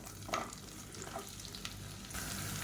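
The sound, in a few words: sliced onion frying in hot oil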